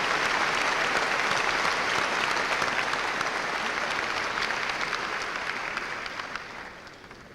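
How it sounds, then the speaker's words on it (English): Sustained applause from a graduation ceremony audience honoring accomplished people, a dense steady crowd clapping that gradually fades toward the end. "please give a round of applause for the accomplishments of these people"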